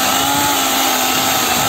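A Parkside 20V cordless chainsaw, model PKSA 20-LI B2, cuts through wooden pieces being shortened for a bench, giving a steady loud high-pitched motor whine with chain rasp, close and continuous with no talking.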